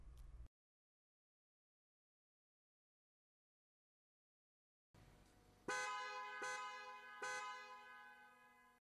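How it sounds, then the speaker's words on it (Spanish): A Volkswagen car horn, tested in a workshop, sounds three loud, close blasts after a brief burst of noise and a long silence. "El técnico de servicio comprueba en el taller si el relé del claxon conecta."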